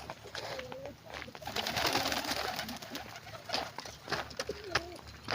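Pigeons cooing softly in repeated low warbling calls, fairly close amid faint outdoor background noise, with a few short chirps mixed in.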